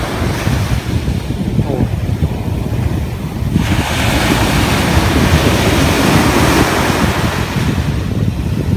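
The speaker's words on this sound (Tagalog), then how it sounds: "Palaki ng palaki yung alon, no?" Strong ocean waves crash and churn on the South China Sea shore in Zambales, a loud continuous surge with heavy wind buffeting the microphone, swelling louder midway, and a brief exclamation.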